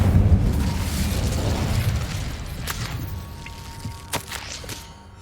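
Fiery Incendio spell blast in Hogwarts Legacy opens with a loud, deep whooshing boom and fades over several seconds into crackling, with a few faint clicks near the end.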